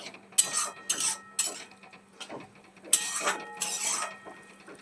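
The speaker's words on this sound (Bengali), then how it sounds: "মশলাটা এবার ভালো করে একটু কষিয়ে নেব।" Utensil scraping and clinking in a pan as spiced masala with sour curd is stirred and fried for capsicum paneer, in irregular bursts of metallic scrapes with short pauses between, close and fairly quiet.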